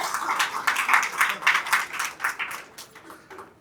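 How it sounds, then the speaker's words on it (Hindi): A mushaira audience applauds in scattered, uneven bursts of clapping that swell near the start, then thin out and fade toward the end, heard fairly close with no one speaking. "तो जलन है तो एक बार जोरदार तालियां बजा दीजिए"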